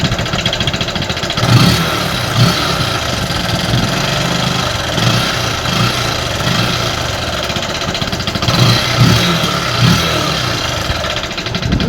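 Bajaj Pulsar 135 motorcycle with a sound problem runs steadily nearby, a loud continuous engine note with an uneven, slightly rough idle and a couple of brief swells in revs, no talking.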